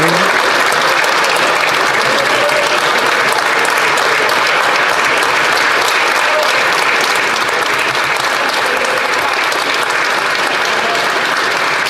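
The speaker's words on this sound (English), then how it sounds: "I'm going to give her this big thunderous applause" Sustained applause from a large crowd, loud and dense, continuing steadily for several seconds.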